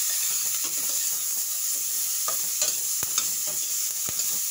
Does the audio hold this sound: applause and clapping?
no